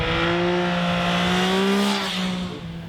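A 2021 Yamaha Tracer 9 GT motorcycle engine running close by, a loud steady hum that rises slightly in pitch before easing off.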